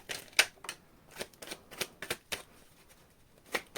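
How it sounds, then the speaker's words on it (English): Tarot cards being shuffled in a short burst, a series of quick papery riffles and soft taps spaced irregularly, close and fairly quiet with no talk over them. "Quite a short shuffle."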